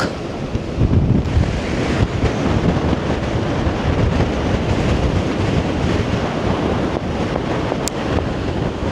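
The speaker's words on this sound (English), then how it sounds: "But look at the waves. Just look at the waves." Gale-force wind buffets the microphone over crashing surf on the Blackpool seafront, a loud, unbroken roar of waves and gusts with no talking.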